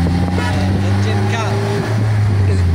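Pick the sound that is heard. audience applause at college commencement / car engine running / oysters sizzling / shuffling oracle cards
car engine running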